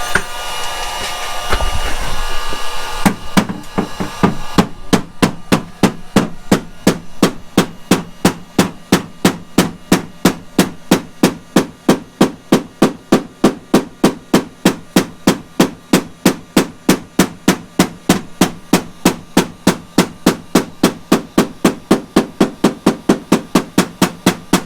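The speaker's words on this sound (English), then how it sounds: "We're gonna smack it with a hammer a little bit." A hammer smacking a Foxbody Mustang fender during fender rolling, first a few seconds of muffled handling noise, then a long steady run of sharp metallic blows, evenly spaced at about two per second, close and loud.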